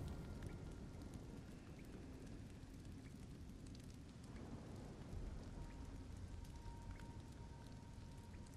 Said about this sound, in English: nice little storm